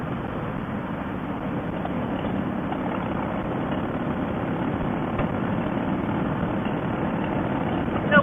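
Harley-Davidson motorcycles ridden together in staggered formation give a steady, continuous engine drone with wind rush, holding a constant level throughout and rising slightly at the very end.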